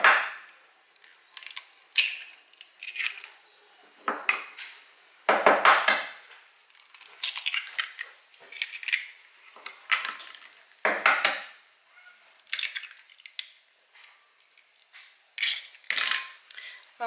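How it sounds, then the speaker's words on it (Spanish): Eggs cracked and dropped into a bowl for a yogurt sponge cake, heard as a series of close, sharp taps and wet plops in irregular bursts, with quiet pauses between them and no talk over them. "Le vamos a añadir enseguida los huevos"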